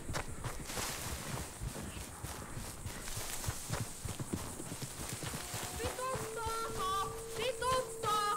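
Horse hooves clip-clop steadily in Red Dead Redemption 2, a close, continuous trot of hoofbeats under game sounds, with someone shouting over them and whistle-like game tones near the end.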